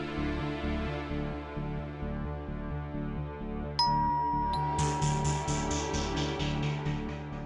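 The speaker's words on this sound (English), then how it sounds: "Didn't you hear the doorbell?" A doorbell chimes indoors, a clear bright ding-dong tone ringing out partway through over a low steady background hum, its ringing tail fading slowly.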